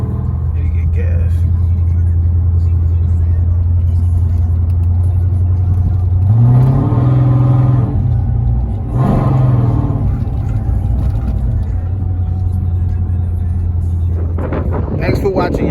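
A cammed 5.7-litre Dodge Charger V8 fitted with a 6.1 intake rumbles at a loud idle, then revs up in two distinct blips before settling back to its lumpy idle.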